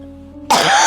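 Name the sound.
cough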